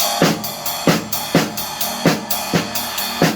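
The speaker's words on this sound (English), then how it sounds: "The louder my snare drum is, the more I want to hear paradiddle left" Crisp snare drum strokes repeat in a steady paradiddle sticking pattern, with regular accented hits recurring every half second or so.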